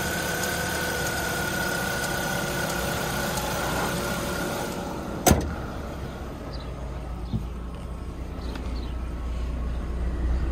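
A 2003 Ford Focus four-cylinder engine idles steadily at close range, a continuous low mechanical hum with one sharp knock midway, then a slightly quieter, even idle.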